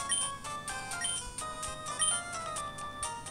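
A phone rings during a match call in a Pokemon video game: bright electronic melodic tones repeat in quick, regular bursts, loud and alone with no talk.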